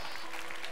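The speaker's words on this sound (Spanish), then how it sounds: "¡Un aplauso!" A short burst of audience applause at a charity magic gala right after a disappearing trick, dense clapping filling the room.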